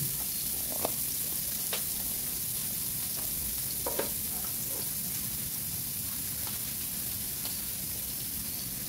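Chopped onions sauté in cooking oil as the base for a beef spaghetti sauce, giving a steady close sizzle with soft stirring scrapes throughout and no talking.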